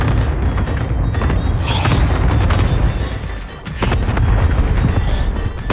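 Cluster strike explosions in a Call of Duty match, a loud, continuous rumble of overlapping booms and thuds rolling on for several seconds with only a brief dip.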